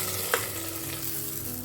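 Hot tempering of mustard seeds, dried red chilli, garlic and curry leaves in coconut oil poured into dal curry, giving a continuous sizzling hiss with one brief clink near the start, no speech.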